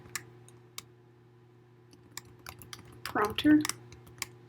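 Code being typed on a computer keyboard, with sparse key clicks and then a quick close-up burst of tapping, under a low steady hum and a brief bit of speech.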